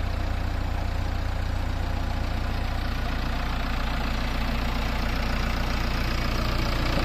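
A JCB 3DX backhoe loader's diesel engine running steadily after lifting a generator into its bucket, a loud, continuous, close rumble with a knocking pulse and no break throughout.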